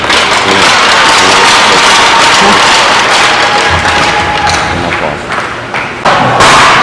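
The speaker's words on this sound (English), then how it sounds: "Please join me in a round of applause for all our seniors and their parents" Hockey arena crowd applauding seniors and their parents on senior night, a loud, dense wall of clapping with occasional thumps, tapering slightly before surging again.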